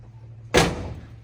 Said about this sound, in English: I'm gonna close the door in just a second.